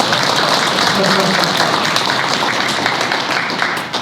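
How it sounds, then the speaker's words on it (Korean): Crowd applause at a public talk event welcoming a middle school student council president, dense steady clapping from many hands with voices mixed in, tapering slightly at the end. "큰 박수 부탁드리겠습니다"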